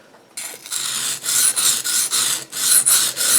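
Knife blade, a Newfoundland-style skinning knife, being sharpened on a silicone stone: repeated close, bright rasping strokes in a steady back-and-forth rhythm, about eight scrapes with brief gaps between them.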